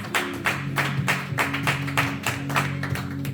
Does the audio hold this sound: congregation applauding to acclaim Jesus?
yes